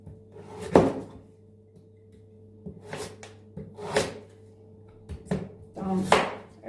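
Sugar beet being cut into pieces on a board, with a handful of separate knife chops and thuds spaced a second or so apart, close by, with no talking.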